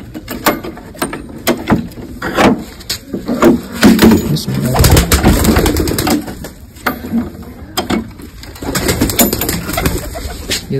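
Pigeons coo repeatedly inside a coop, large birds calling in overlapping bursts over a steady background hum, with clattering mechanical knocks and brief voices now and then.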